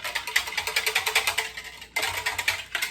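A whisk beating a sauce made with coconut aminos, a fast, steady rhythmic clatter against the bowl that pauses briefly near the end and then resumes, close and moderately loud.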